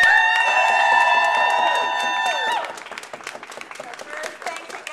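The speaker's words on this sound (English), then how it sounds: "Please give her a round of applause." Crowd applause at a protest rally over Title X funding in Pittsburgh, loud clapping with cheers and whoops, while a sustained tonal sound rings over it and fades out, the clapping thinning to scattered claps.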